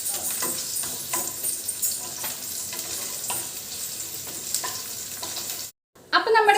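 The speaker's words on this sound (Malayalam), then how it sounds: "ഇതേ ഇത് വെണ്ടയ്ക്ക് വറക്കാനായിട്ട് പോവുകയാണ്." Okra frying in a pan gives a steady, close sizzle with intermittent stirring scrapes, broken by a short silent gap near the end before a louder burst of frying.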